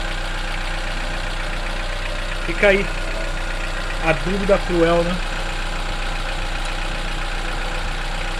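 A warmed-up Chevrolet Onix LTZ 1.4 engine idles with a faint lifter tick, a steady close hum that runs throughout while someone speaks briefly over it.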